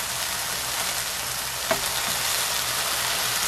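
Chicken breast seasoned with pepper fries slowly over low heat in a pan, giving a continuous close sizzle with a single faint tap partway through and no talking.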